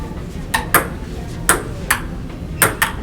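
A ping pong ball clicks sharply back and forth during a table tennis rally, about eight crisp, evenly spaced hits over a few seconds, close and clear with no talking.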